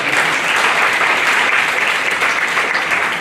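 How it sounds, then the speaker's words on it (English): Loud, steady applause from an audience at a talk, sustained clapping filling the entire moment without pause. "Everybody give her a round of applause."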